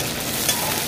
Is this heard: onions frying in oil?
yes